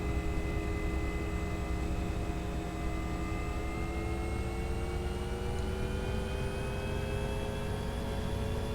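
A Bell UH-1 Huey helicopter in the X-Plane 11 flight simulator spools up, its steady turbine whine and rotor drone climbing slowly in pitch as RPM builds, loud and continuous with no voices.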